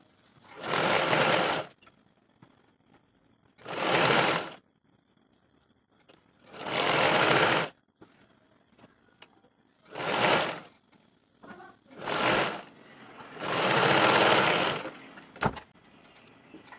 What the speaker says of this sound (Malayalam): ക്ലോത്ത് രണ്ടും ഒരുമിച്ച് വെക്കുക എന്നിട്ട് സ്റ്റിച്ച് ചെയ്യാം അതിനുശേഷം പതിയെ പതിയെ ഒന്ന് സ്റ്റിച്ച് ചെയ്ത് സ്റ്റിച്ച് ചെയ്ത് അങ്ങോട്ട് പോവുക